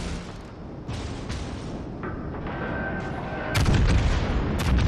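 Heavy guns of the Yamato battleship boom in World of Warships Legends, a loud continuous roar of naval gunfire swelling into a bigger blast near the end.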